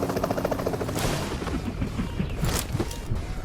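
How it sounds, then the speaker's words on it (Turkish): Loud PUBG battle sounds with dense, continuous gunfire and machine-gun bursts amid rumbling helicopter-like noise and booms, running steadily throughout with no speech. "Aa iki tane helikopter"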